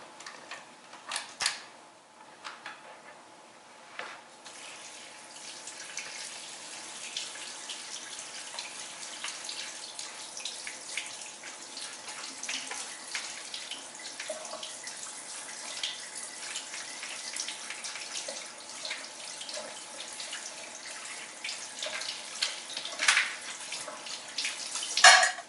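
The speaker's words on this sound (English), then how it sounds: "just make sure you rinse everything really well and you break it up into pieces." Crab pieces being rinsed under a running kitchen tap for a cioppino, a steady faint splash of water with small clicks and knocks of shell and handling throughout, no speech.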